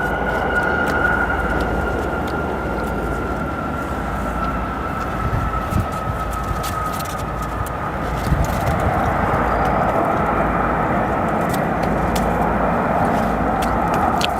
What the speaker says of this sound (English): SkyWest CRJ 200 departs along with the brand new Southwest 737 MAX 8.